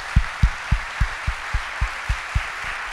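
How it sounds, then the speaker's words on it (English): Claps ring out at a Marine retirement ceremony, about ten evenly spaced and fairly soft against a steady hiss, more like a single slow clapper than a full crowd. "If we could give them a round of applause real quick."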